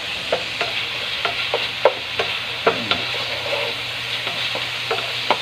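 Garlic and onion brown in a hot frying pan with a bright continuous sizzle, punctuated by regular spatula scrapes and taps roughly every half second, close and fairly loud with no talk.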